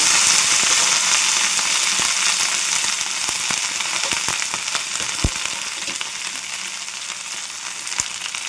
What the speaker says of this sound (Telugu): ఇప్పుడు అదే ప్యాన్లో నేను ఈ కడిగి పెట్టుకున్న మునగాకు వేసేస్తున్నాను